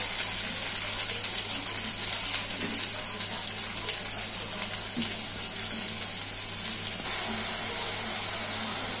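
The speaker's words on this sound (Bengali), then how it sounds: "মশলা দেওয়া বাটির জলটা দিয়ে দিলাম।" Water from a spice bowl pours steadily into a pan of potatoes with poppy seeds for a Bengali aloo posto, a continuous close splashing gush lasting several seconds with no talking.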